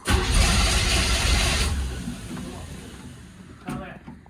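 A car engine cranks with a loud, rough churning burst for under two seconds, then the noise fades into a softer rumble, followed by a brief knock.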